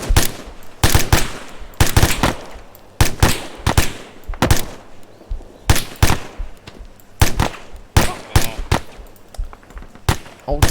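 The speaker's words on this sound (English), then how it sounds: "Rapid fire." Rapid gunfire in the military video game ArmA 3 cracks in loud, sharp bursts and single shots at irregular intervals, close and punchy, with a few voices over radio between volleys.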